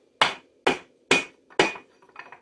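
Four evenly spaced, sharp hammer taps close by, seating a reverse chain on a Polaris RZR 1000, each strike ringing briefly before decaying, followed by a few softer knocks.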